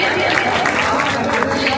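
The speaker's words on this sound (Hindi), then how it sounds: "तो जरा ताली वाली बजा दीजिए।" Audience applause at a mushaira poetry gathering in Begusarai, Bihar: dense, continuous clapping and crowd noise filling the whole moment, loud and even.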